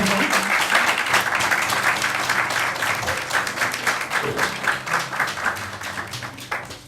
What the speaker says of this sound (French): Applaudissons pour le Seigneur, pour nos enfants.